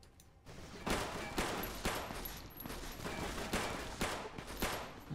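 Rapid gunfire in Fallout: New Vegas, a string of sharp, loud shots in uneven bursts over a steady game backdrop, close and without any talking.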